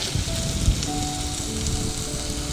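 Okra and onion sautéing in a pan make a steady, soft sizzle that runs without a break, with a few faint tonal hums underneath and no voices.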